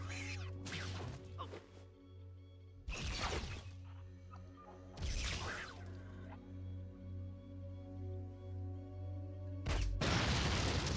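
A grenade in the video game Fallout 1.5 Resurrection detonates in several heavy booming blasts, each one a loud, deep explosion with rumble and crackle, spaced a few seconds apart over a steady low game drone.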